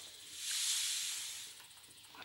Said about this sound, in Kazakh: Айтпақшы, міне жылан.